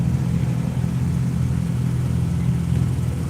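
Race cars at a track event, including a Cardinal, a Forsyth Supra and Porsches, rumble steadily with a deep engine drone that holds loud and even throughout, with no talk.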